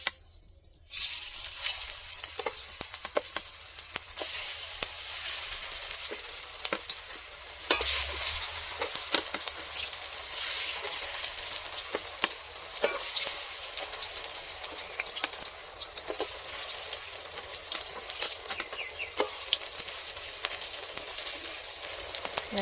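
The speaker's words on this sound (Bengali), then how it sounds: "এখন আমি বড়াগুলো ছাড়িয়ে দেব তেলের মধ্যে।" Raw banana fritters sizzle and crackle steadily in hot oil, a dense continuous frying hiss with occasional stirring clinks, holding level throughout with a brief louder burst partway in.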